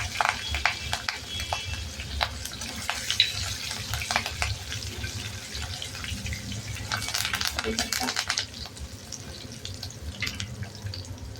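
Onion, ginger and finely chopped chili sizzle steadily in a hot pan while vegetable upma is being made, a continuous crackling hiss with occasional scraping stirs, close by and moderately loud, with faint talk in places.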